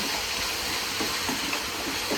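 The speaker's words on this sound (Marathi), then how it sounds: "तेल बी आपला गरम झालेलं आहे, त्याच्यामध्ये पहिला मी लसूण टाकते" Garlic hits hot oil for a tempering before fish curry, giving a steady, loud, close sizzling hiss that runs unbroken for the whole stretch, with no voices.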